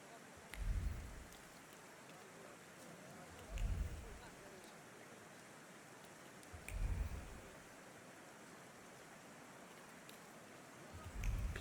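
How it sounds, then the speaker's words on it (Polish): Rain falls steadily in The Thaumaturge, a period video game set in Warsaw. A soft, even hiss is broken by low, muffled thumps that recur every few seconds. "bo to tylko na Powiślu pada deszcz"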